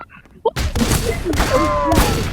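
Gunfire in the Roblox video game: after a short pause, a loud sustained burst of rapid shots starts and keeps going in repeated surges, with brief voices before it.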